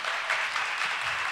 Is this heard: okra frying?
no